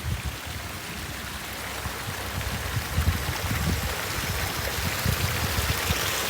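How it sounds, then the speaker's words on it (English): Water rushes and trickles steadily down into a canal, a constant wash of flowing sound without speech, heard from a short distance. "The water coming down there, look."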